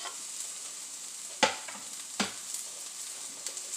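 Onions frying in oil in a pan, a steady soft sizzle with a couple of sharp pops or stirring clatters standing out, close and fairly quiet with no talk.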